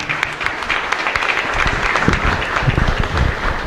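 A congregation at Mass in the old San Antonio chapel gives a loud, steady round of applause, dense clapping filling the room with no break.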